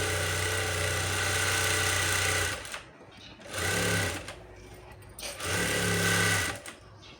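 Sewing machine stitching a blouse, three loud bursts of rapid mechanical whirring separated by short pauses, close and steady, with no talking over it.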